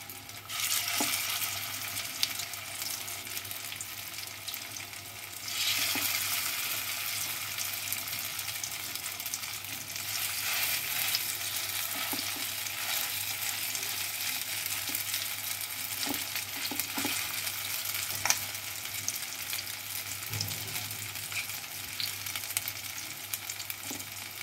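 Poppy seed fritters (posto bora) fry in a pan with a steady, dense sizzle lasting throughout, broken by occasional soft clicks and a brief stir, close and even in loudness with no voices.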